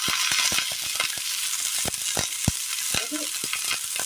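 Brinjal going into okra frying in a pan for a Kerala curry: a loud, continuous sizzle with frequent sharp clicks and scrapes of stirring close by.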